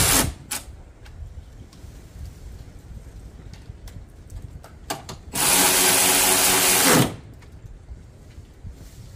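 Power tool driving down an AFE intake T-bolt clamp on a 2021 Ram TRX, one loud sustained buzz lasting under two seconds, set between scattered clicks and handling knocks close by.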